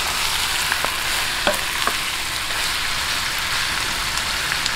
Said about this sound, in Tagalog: bisa-bisahin lang po natin ito hanggang mag-light brown